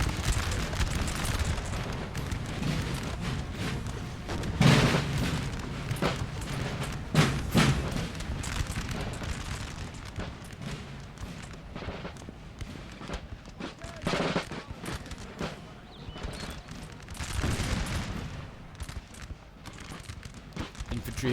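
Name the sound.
musket and artillery fire in video game Napoleon Total War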